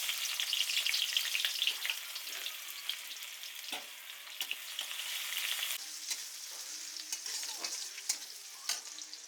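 Chopped onions frying in mustard oil in a hot wok (kadai), a steady close crackling sizzle with occasional sharp pops and stirring scrapes throughout, no talk.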